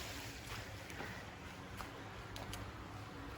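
Spring water pouring out of a pipe beside a trail in Shenandoah National Park, a steady, faint rushing hiss with no breaks and no voices.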